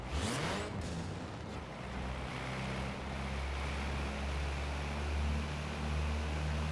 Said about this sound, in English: So, do you think this is a cool engine sound for a game like this, Kid Curry?